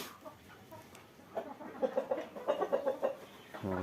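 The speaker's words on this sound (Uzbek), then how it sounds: "Mana xo'rozlar achchig'i kelib" Roosters on a small farm cluck nearby in a quick run of agitated, rhythmic clucks that grow louder toward the end, over a quiet yard background.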